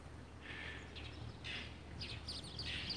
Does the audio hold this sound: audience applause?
no